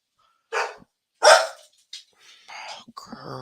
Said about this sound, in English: What are you barking at, Pooh?